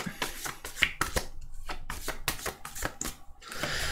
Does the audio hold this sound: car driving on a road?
no